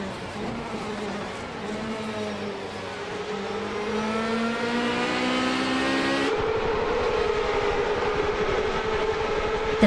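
Ferrari 355 Challenge race cars on the Chicago Street Circuit in a racing video game, engines whining and climbing in pitch through gears with a sharp shift midway, loud and continuous.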